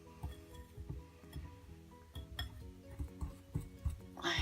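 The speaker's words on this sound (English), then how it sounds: "I'm going to use the whisk." A whisk mixes mixed spice in a bowl for bath bombs, producing quick rhythmic metallic clinks and taps against the bowl, close and fairly quiet, repeating steadily.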